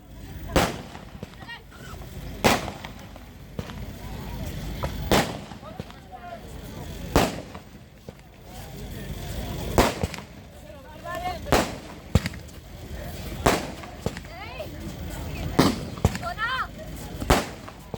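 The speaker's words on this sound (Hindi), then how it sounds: "ये जो पटाखे, आपको ये पटाखों की जो रोशनी दिख रही है, कमल जी भाई साहब वैशाली की तरफ से है" Firecrackers crack and pop in irregular bursts at a kabaddi match, sharp loud bangs spaced a second or two apart, with crowd noise and murmuring voices underneath.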